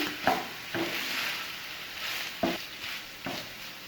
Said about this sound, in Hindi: 1 मिनट के लिए हम इनको फ्राई करेंगे।